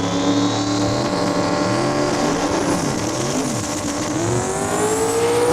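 Mustang drag cars at Saskatchewan International Raceway roar off the line together, a loud sustained engine howl with rising pitch as they accelerate down the strip.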